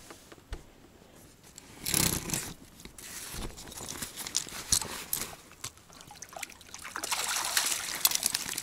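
Water splashes and sloshes close by in irregular bursts while checking a fishing catch of crucian carp, with wet dribbling and crinkling sounds building louder toward the end.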